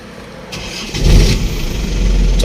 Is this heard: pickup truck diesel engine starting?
yes